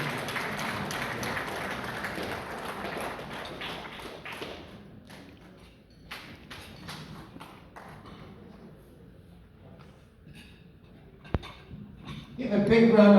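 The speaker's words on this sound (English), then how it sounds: "please put your hands together for His Excellency, the Sierra Leone Ambassador to the United States, Ambassador Sidique Abubakar." Audience applause for the Sierra Leone Ambassador to the United States at a community gathering, a dense patter of clapping that thins out partway through, with scattered taps and voices, then swells again near the end.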